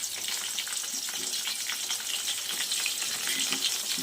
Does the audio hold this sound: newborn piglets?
no